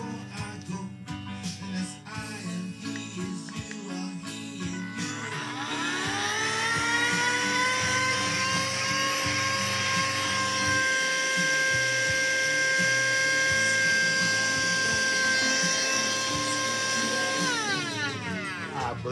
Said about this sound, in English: thank you, little vacuum